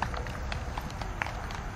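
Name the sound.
horse hooves clip-clopping during eventing competition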